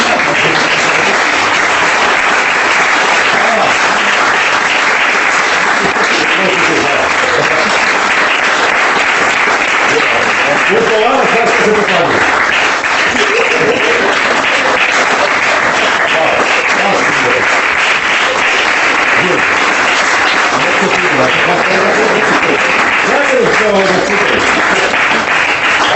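Sustained theatre audience applause at the close of a comedy performance, dense and loud clapping filling the whole stretch with a steady roar, with a voice speaking briefly over it.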